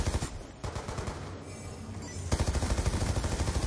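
A floating drone firing a machine gun in a team flag-capture video game, rapid sustained bursts of automatic fire with a short pause, close and loud.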